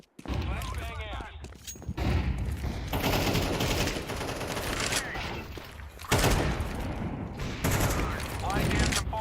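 Sustained bursts of automatic gunfire in Counter-Strike 2 on a Faceit EU match, loud and dense with brief gaps, rattling continuously for several seconds.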